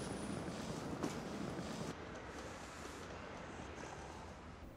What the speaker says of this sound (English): Anyway, we're going to go on the tram now,